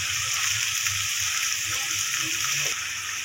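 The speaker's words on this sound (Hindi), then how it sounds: "अच्छे तरीके से भुनाई करें" Food roasts in a pan with a continuous loud hissing sizzle, and a low voice murmurs faintly beneath it.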